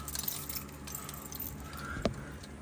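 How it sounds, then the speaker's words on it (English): Car keys jangle near the ignition of a 1971 Dodge Charger 440 in a garage, a brief metallic clink standing out over steady low background noise. "I should probably put the keys in here"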